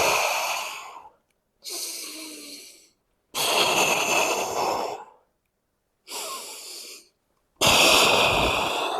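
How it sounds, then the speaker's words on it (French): Five loud, close breaths during a knee external-rotation exercise, each drawn in through the nose and pushed out through the mouth as a rushing, slightly wheezy gust, with short silent pauses between them. "J'inspire par le nez. J'expire par la bouche."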